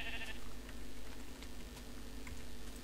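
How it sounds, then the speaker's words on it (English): Sheep bleating in the video game Minecraft, a short cry near the start over a steady hum of game background sound, with faint repeating ticks, no voices. "Sheep."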